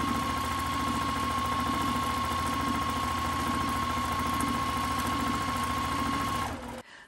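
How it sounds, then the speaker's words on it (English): A sewing machine stitches a half-inch seam on a tutu at a small stitch length, a steady, loud, close mechanical whir with a constant pitched hum that runs for about six seconds before winding down and stopping. "I am going to sew with about a half inch seam allowance because my elastic is at quarter inch"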